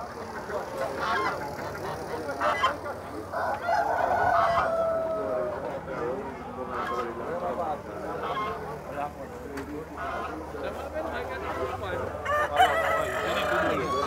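Roosters crow and chickens cluck in the poultry section of an outdoor livestock and pig market in Campina Grande, Paraíba, Brazil, several birds calling over a busy crowd with people talking nearby.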